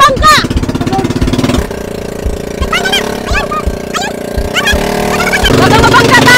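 A small motor boat engine chugs steadily at low tide, its rhythmic mechanical pulse running throughout while people talk over it nearby.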